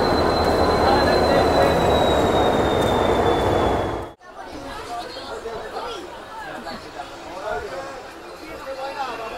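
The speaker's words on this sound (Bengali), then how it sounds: "আমাদের মাঝখানে ট্রেন ঢুকছে" A train pulls into a station with a loud rumble, wheel squeal and a steady high whine. The sound cuts off abruptly partway through, then a crowd chatters nearby over softer rail noise.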